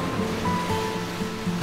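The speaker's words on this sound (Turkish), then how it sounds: "Dalga sesi." Sea waves wash in a continuous rolling surge, with a faint tonal hum and low rhythmic layers running underneath.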